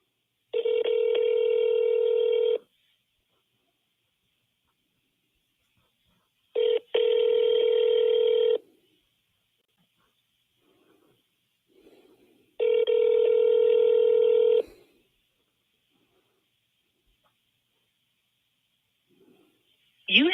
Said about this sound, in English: We're just giving a call over to your police department about that Mr. Baxter